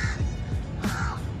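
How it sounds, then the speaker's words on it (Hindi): A crow caws outdoors near a footbridge in Ahmedabad, giving two harsh calls close by, one at the start and a louder one just after the middle, over a steady street background. "देख रहे हो, कौवा भी परेशान कर रहा है।"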